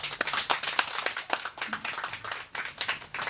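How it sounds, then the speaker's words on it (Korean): An audience gives a speaker a round of applause after a talk at a Seongju candlelight gathering: many hands clapping steadily and fairly close for a few seconds, with a voice briefly heard over it. "다시 한 번 더 우리 관초 도환영님께 큰 박수 부탁드리겠습니다"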